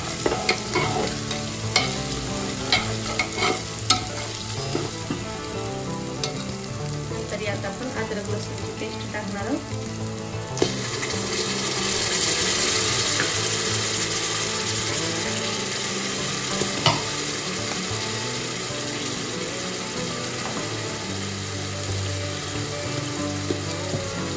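Spiced chicken biryani masala being stirred in a pan, a continuous close sizzle with frequent scraping and clinking strokes of a spoon against the metal, swelling louder partway through.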